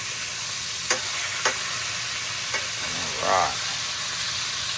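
Pork chops fry in a pan with a steady, moderate sizzle and hiss, broken by a few sharp clatters as they are turned and a brief spit of louder frying.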